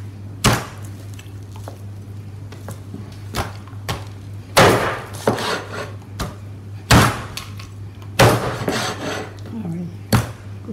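Sharp knife strokes chop through heart of palm on a board, several irregular loud thuds and cracks spaced apart, with a steady low hum underneath.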